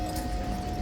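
Hooves of guard troopers' horses clip-clopping on hard ground, a quick run of close, steady hoofbeats over low crowd and street noise.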